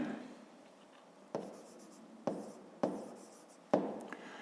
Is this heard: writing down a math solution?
yes